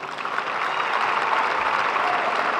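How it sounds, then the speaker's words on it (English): Sustained applause from an audience at a Hall of Fame induction during a women's basketball championship event, a steady dense wash of clapping at moderate distance with no speech over it. "Once again, a big final round of applause"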